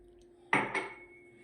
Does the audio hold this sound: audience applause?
no